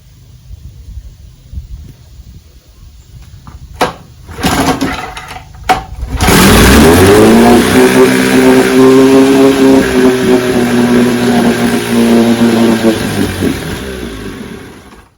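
A 1958 Johnson 18 HP outboard motor with a clogged carburetor is cranked a few times, then catches and runs loudly at a steady, rough idle close by before starting to fade.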